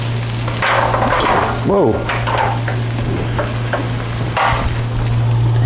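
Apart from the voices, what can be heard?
sauteing leeks in olive oil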